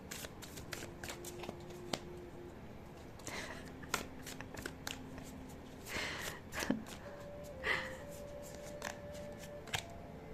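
Tarot cards are shuffled and drawn from a deck, giving soft, close riffling, flicking and sliding of the cards with a few light taps, quiet and steady with no talking.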